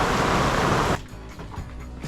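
Dense, steady downpour roaring close for about a second, then cutting to a much quieter background with scattered patters.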